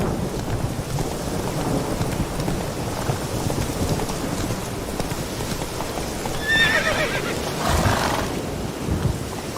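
Roach the horse gallops in The Witcher 3 with rapid hoofbeats on the ground, a rain and thunderstorm rumbling behind, and a sharp neigh near the end.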